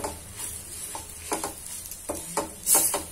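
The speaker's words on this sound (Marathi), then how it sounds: "तिलाही आपण छान भाजून घेत आहोत" A dal mixture roasting in a pan, heard as a soft steady sizzle with recurring stirring scrapes at an even rhythm, close but fairly quiet, with no voice.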